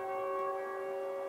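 Sustained warning siren tone in the Siren Head horror video game, a steady harmonic wail heard alone and fairly faint, as if from a distance.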